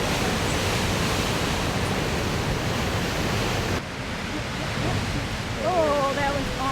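Ocean surf surging into and spouting from Thor's Well, a deep rock hole on the Oregon coast near Yachats, heard as a loud continuous broadband roar with wind noise, dipping briefly then swelling again, with faint bird-like cries near the end.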